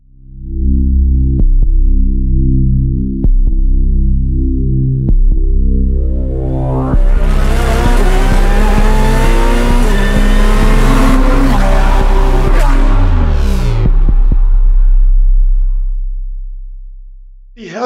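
Formula 1 show intro theme: a loud sustained tonal music bed with racing car engine sounds that rev and swell mid-way into a dense roar, then fade out at the end.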